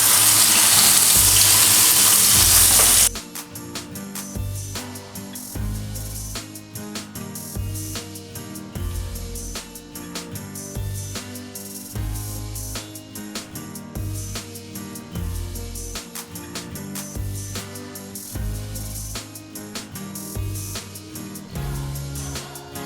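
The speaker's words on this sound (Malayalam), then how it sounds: "ഫിഷ് ഒന്ന് ഫ്രൈ ചെയ്തെടുക്കാനാണ്" Marinated fish frying in a pan for a Kerala-style fish molee, a dense crackling sizzle with rapid pops throughout, preceded by a loud hissing burst as the fish hits the hot oil.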